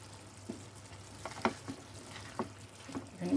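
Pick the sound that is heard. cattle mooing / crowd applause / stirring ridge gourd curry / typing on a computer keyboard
stirring ridge gourd curry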